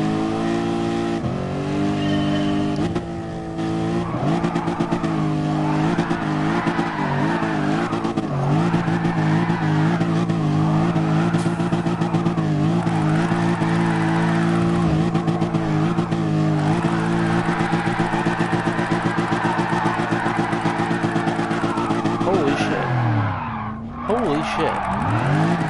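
Car engine revving hard with tires squealing while drifting in the Gran Turismo Sport video game, a loud continuous whine of rising and falling revs with screeching tires that cuts off near the end; a voice talks over it.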